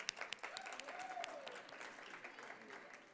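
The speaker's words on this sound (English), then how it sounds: "Let's give a round of applause for the participants, hosts, and organizers that helped with all of this." Scattered applause from an audience at a Muslim heritage expo in New Jersey, fairly faint and thin, with a few sharper claps early on and a voice running through it.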